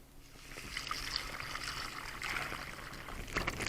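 Four cups of ice water poured into a salt brine for pork chops, a steady trickling, splashing pour with no talk over it.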